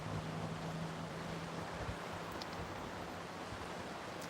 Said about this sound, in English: So peaceful just listening to that water.